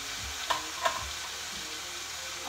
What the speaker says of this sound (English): It's going to help it steam a little bit more.